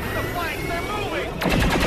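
Automatic gunfire rattles in a tense XCOM 2 firefight, a dense stretch of game effects and chatter that swells into a louder volley of rapid shots near the end, with a voice talking over it.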